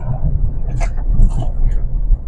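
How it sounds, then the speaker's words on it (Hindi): A vehicle rumbles past on a jungle road in a tiger reserve, a loud low engine drone swelling and fading over a couple of seconds, with faint voices underneath. "एक मिनट गाड़ी निकल जाए,"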